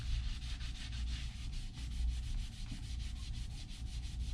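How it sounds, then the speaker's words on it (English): Rapid rhythmic rubbing of wax onto leather shoes during a shoe shine, a steady close brushing scrub repeating several times a second, alone without talk. "But we'll put some wax on there for you."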